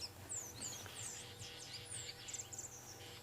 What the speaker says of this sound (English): there's a beautiful sound of birds chattering away